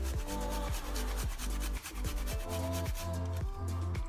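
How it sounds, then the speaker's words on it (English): Fresh ginger rubbed against a hand grater over a pot of masala chai, a steady run of close, rhythmic scraping strokes, roughly eight of them, with no talking. "So this much is the amount of ginger I've taken, and I'm gonna grate it into the tea."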